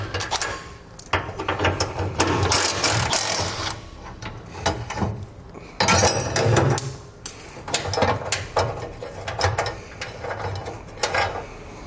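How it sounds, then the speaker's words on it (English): A 13mm socket ratchet working the spare tire bracket bolts under a 2019 Chevrolet Colorado: bursts of rapid clicking ratchet strokes separated by short pauses, close and fairly loud. "We're going to take a 13mm socket."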